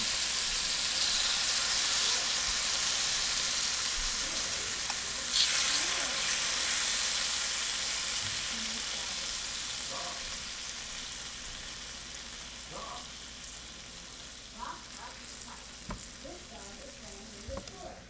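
Shrimp sizzle on a grill, a steady close hiss and crackle that slowly fades, with occasional small clicks and faint voices in the background.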